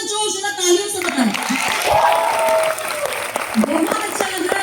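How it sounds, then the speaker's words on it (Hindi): Applause from an audience fills the room, steady and broad, with a voice calling out over it near the start and scattered cheers. "हाउस में जोश, जरा तालियों से बताएं"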